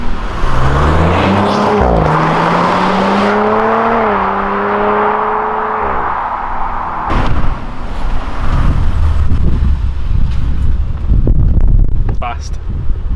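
An Audi RS5 coupe accelerates hard, its engine note climbing steadily in pitch through several seconds before easing off into rushing wind and road noise, with voices inside the car.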